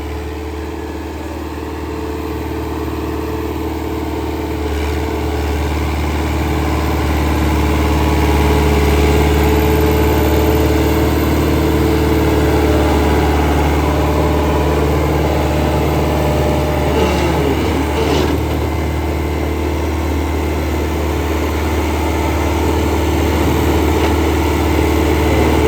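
A New Holland 850 tractor engine running steadily while pulling a super seeder, a loud continuous low diesel drone that swells slightly midway and holds even throughout.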